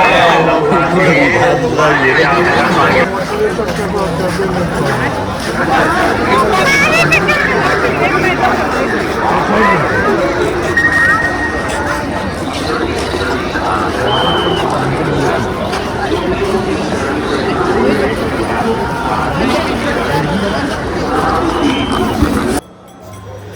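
A dense crowd of pilgrims at the Mahakumbh near the Sangam fills the air with continuous babble and chatter, steady and close throughout, with footsteps and movement mixed in.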